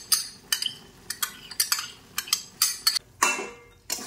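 A spoon stirs spices, ground coriander and sour yogurt in a cooking pot for Kashmiri rogan josh, making a rhythmic series of close metallic scrapes and clinks about twice a second.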